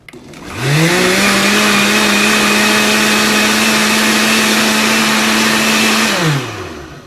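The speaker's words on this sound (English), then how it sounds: "And then you just blend it till it's smooth, like 10 seconds" Blender whirring steadily for about five seconds as it purees a key lime pie filling of lime juice and condensed milk, a close, loud motor hum that spins up and then winds down at the end.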